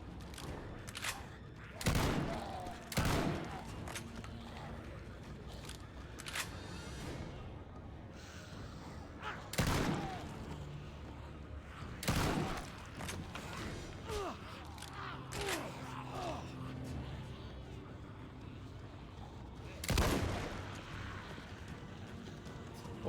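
Shotgun blasts fired at zombies in The Walking Dead: Survival Instinct, several sharp loud bangs spaced irregularly across the span, with grunts, breaths and mechanical handling noises between shots.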